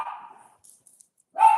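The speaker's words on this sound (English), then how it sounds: "Jill's here, which is why Tallulah is barking" Two pet dogs bark indoors in a home, a bark at the start and a louder one at the end with quiet between.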